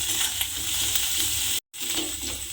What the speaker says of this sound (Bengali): আদা রসুন বাটাটা দিয়ে আমি একটু কষিয়ে নিয়েছি